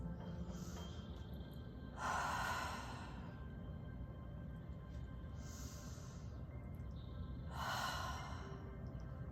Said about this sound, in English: Taking 2 more breaths.